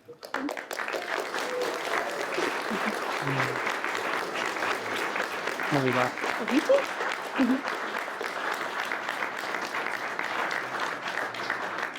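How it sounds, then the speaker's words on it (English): Guests at a wedding at Eastnor Castle burst into sustained clapping and cheering for the newlyweds, a dense, even applause lasting over ten seconds with a few nearby voices talking through it. "Can we have some whooping and cheering and clapping for the newly married Mr. and Mrs. Barker?"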